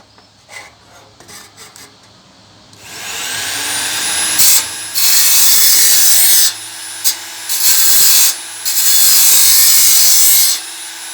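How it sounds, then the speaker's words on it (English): A small belt sander runs against the sharp cut corners of a metal panel, whining loudly in several long grinding passes broken by brief pauses, with a few light handling knocks beforehand. "I'm going to use my little belt sander just to clean them up because they're a bit sharp from cutting it."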